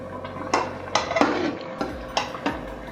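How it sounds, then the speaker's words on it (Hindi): A spoon scrapes and clinks against a pan while carrot halwa (gajar ka halwa) cooks in milk over medium-low heat, several sharp metallic taps at an uneven rhythm, close and fairly quiet with no talking. "और इसे अच्छी तरह से मिक्सअप करेंगे। अब हम इसे मीडियम लो आंच पे दूध खुश्क होने तक पकाएंगे।"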